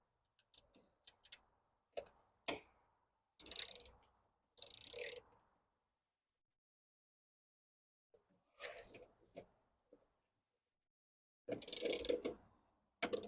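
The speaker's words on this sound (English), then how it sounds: "now we just got to go ahead and put those 10mm nuts back on" Small 10mm nuts being threaded back onto a plastic BMW coolant reservoir on an M54/M52 engine, heard as short scattered clicks and ratchet-like bursts separated by silence, close and fairly quiet.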